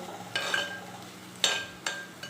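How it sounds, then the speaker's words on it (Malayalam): Potato stir-fry (thoran) cooking in a pan, with three distinct scraping strokes of a stirring spoon over a faint steady sizzle, close and fairly quiet with no speech. "ഇടയ്ക്ക് ഇടയ്ക്ക് ഇങ്ങനെ ഇളക്കി കൊടുക്കുക"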